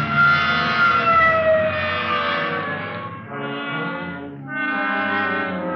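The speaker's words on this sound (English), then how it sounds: "Okay, hit the siren." A police car siren sounds in a 1950 Dragnet old-time radio drama. It is loud and close, wailing up and down in long continuous sweeps with no talk over it.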